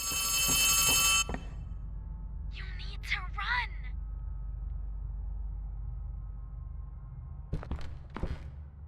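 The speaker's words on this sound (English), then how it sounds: "Up ahead, we hear Ollie calling from an old phone." An old telephone rings inside a horror video game, a bright metallic bell burst up front followed by quieter warbling tones and a couple of later clanging rings over a low ambient hum.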